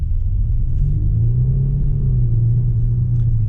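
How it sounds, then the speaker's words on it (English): Steady low diesel drone and rumble from a Range Rover TDV6 while driving, an even, fairly loud cabin hum with a slight rise in pitch midway and no rattle standing out. "You don't hear the engine rattle too much."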